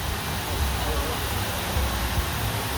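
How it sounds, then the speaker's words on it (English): A waterfall at Epcot gives a steady broadband rush of falling water, continuous and fairly close, mixed with outdoor park ambience. "Right there, that waterfall is so much fun."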